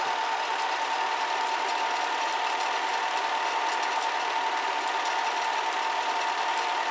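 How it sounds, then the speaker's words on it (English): A movie film projector runs steadily close by, a constant whirring mechanical drone with a faint rapid clatter and no talking. "once the film gets going, it doesn't lose the loop anymore"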